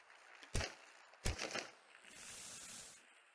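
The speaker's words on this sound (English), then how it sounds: "Get the spray. Put lube all over your gun." Lubricant sprayed on a gun in the VR game Into the Radius. Two sharp handling clicks are followed by a steady hissing spray that lasts about a second, all fairly quiet.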